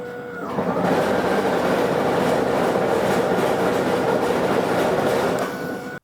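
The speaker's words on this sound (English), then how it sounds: "Now the noise that you hear when it's on the run position" A Toro Power Max e24 60V electric two-stage snowblower whirs loud and steady with a mechanical rattle, starting up quickly and running evenly for several seconds before winding down.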